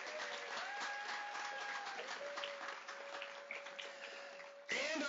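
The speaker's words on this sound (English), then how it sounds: "we would like to give you a round of applause to the Bethel School Board" Audience at the Willamette High School 2023 graduation applauding the Bethel School Board, a steady wash of clapping with a tonal hum running through it, fairly distant, ending in a louder burst.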